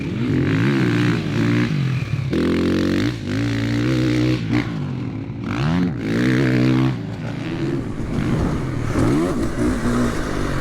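Ricky Carmichael's motocross motorcycle is ridden hard, the engine revving up and down in repeated surges with clattering and scraping, loud and close throughout.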